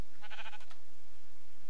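A single short Minecraft sheep bleat, a wavering nasal call lasting about half a second, heard up close over a quiet, low background hum with no talking.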